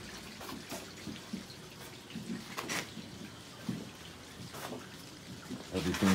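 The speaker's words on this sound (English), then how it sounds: "Just flushing the toilet now, checking for leaks." A newly installed basement toilet flushes and refills, with a rushing, trickling water noise that runs throughout at moderate volume and some faint voice underneath.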